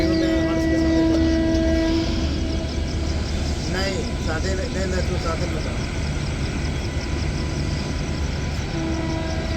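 A South Eastern Railway MEMU train rumbles steadily into Howrah station, with a sustained horn tone at the start and again at the end, while people talk nearby throughout.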